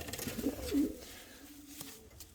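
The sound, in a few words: pigeons cooing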